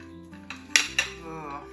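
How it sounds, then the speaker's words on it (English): A spoon scoops baked breakfast casserole from a dish, a few soft scrapes and two crisp clinks of metal on the dish, close and fairly quiet. "I'm gonna go ahead and scoop this up and we will give this a taste"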